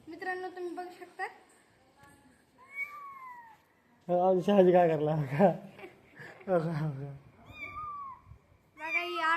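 A caught kitten meows repeatedly in short, rising cries between bursts of nearby talk and light laughter from people around it.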